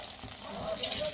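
Pieces of flour dough frying in hot oil, a close, continuous sizzle with a brief swell of bubbling, heard alone for about a second.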